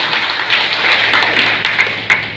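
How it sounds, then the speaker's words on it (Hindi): Crowd applauding at an outdoor political rally in Unnao, a short burst of dense, broadband clapping, loud and close, with a few sharper claps standing out near the end. "जोर से ताली बजाइए।"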